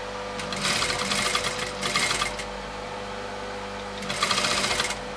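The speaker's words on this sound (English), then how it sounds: "I should have been sewing from this side because I could see the line better." A sewing machine stitches a puffed sleeve in three short bursts of rapid mechanical whirring, each about a second long, with quiet pauses between them.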